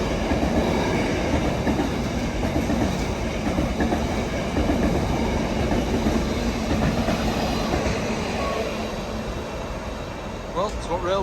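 A freight train passes close by on the railway, a loud continuous rumble with rhythmic wheel clatter and a faint squeal near the end.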